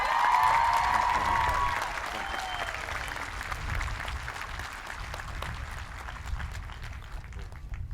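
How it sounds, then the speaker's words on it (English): A graduation audience at the Charles J. Colgan Senior High School commencement applauds steadily, a dense, sustained wash of clapping from a large crowd that is loudest at the start and then settles to an even level. "One more round of applause for Mr. Colgan"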